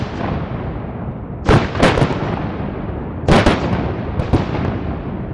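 Shotgun blasts while duck hunting outdoors: two quick bursts of two to three loud, sharp shots each, a couple of seconds apart, over a constant background rush.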